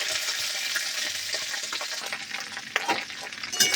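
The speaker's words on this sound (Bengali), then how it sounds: "তেলটা গরম হয়ে গেছে, এতে আমরা এবারে ঢ্যাঁড়সটা দিয়ে দেবো।" Okra sizzles in hot oil in a kadai, a dense, continuous frying hiss with scraping stirs and clinks growing more frequent toward the end.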